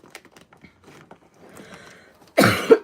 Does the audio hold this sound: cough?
yes